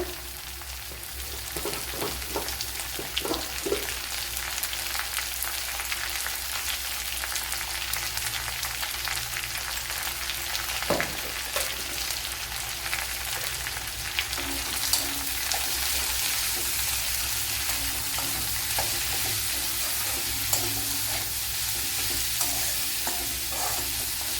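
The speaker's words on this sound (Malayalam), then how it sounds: "നമ്മളിനി സവാളയൊക്കെ ഒന്ന് വഴണ്ട് കിട്ടണം" Two large sliced onions with salt frying in a pan for egg curry, a constant loud sizzle under repeated scraping stirs, close and steady throughout.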